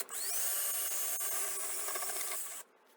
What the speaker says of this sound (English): so I'm going to drill a 1/2 inch hole.